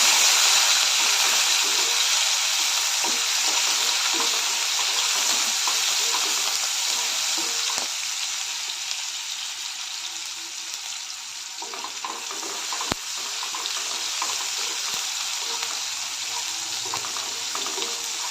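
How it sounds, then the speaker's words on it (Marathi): Tomatoes with curry leaves and garlic sautéing in a pan, giving a loud, broad, continuous sizzle with faint stirring movements underneath, close and steady, easing slightly midway, no speech. "त्यानंतर कढीपत्ता लसूण बारीक चिरलेला टोमॅटो सर्व घालून चांगलं परतून घेते"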